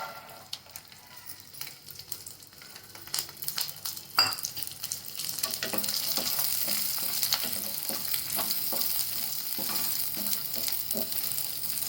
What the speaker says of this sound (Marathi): लसूण आपल्याला याच्यात छान असं तळून घ्यायचं आहे